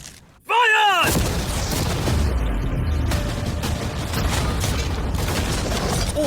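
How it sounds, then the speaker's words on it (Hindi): Cannon fire aimed at a yacht, with a sudden loud blast followed by a long, dense roar of crashing, smashing debris as storage containers are torn apart, and voices partly mixed in. "अब हम तुम्हारी नई यॉट पर कैनन्स को शूट करने वाले हैं"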